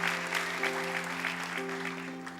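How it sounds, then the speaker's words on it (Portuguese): Strong applause from a church congregation, clapping steadily for about two seconds with a sustained organ or keyboard chord ringing underneath. "Dê um aplauso bem forte a Deus."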